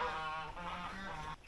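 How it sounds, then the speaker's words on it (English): Geese honk repeatedly on a working farm that doubles as a hotel in northern Nicaragua, their nasal calls overlapping at a fairly faint, moderate distance. "This is a working farm as well as a hotel, so hence the geese."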